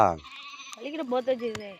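Goats bleat up close in a short burst of wavering, nasal cries, the first loud and the rest quieter and more broken.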